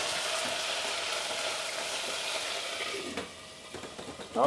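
Duck rissoles sizzling in a pan and being stirred, a steady close hiss with occasional scraping at the end.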